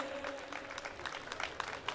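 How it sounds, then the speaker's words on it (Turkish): A crowd applauding a mayor's arrival at a public event: brief, fairly faint clapping with scattered claps, set back at a distance with a murmur of crowd noise beneath. "Arka taraflar alkışlarınızı rica ediyoruz."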